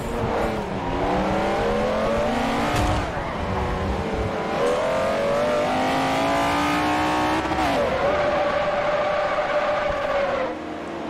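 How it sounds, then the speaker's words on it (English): McLaren F1 race cars racing in Forza Motorsport 4, engines loud and close, with rising and falling revs as gears shift and a brief tire squeal, running steadily throughout. "I guess we're racing, those are standard McLaren F1s."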